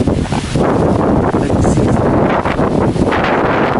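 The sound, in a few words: strong typhoon wind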